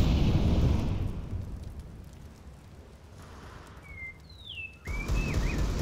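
An incendiary grenade burning in CS:GO on the Overpass map, a loud rushing roar of flames that eases off, then returns strongly after a brief cut, with a few whistling tones rising over it.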